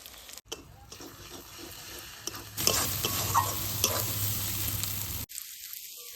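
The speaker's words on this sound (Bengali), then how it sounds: "সব মশলা দিয়ে ভালো করে কষিয়ে নিয়েছি" Spices with cumin paste, ginger-garlic paste, dried chilli paste, salt and turmeric being sautéed and stirred in a pan for katla fish kalia, a steady close sizzle with scraping stirs that grows louder midway, then cuts off abruptly.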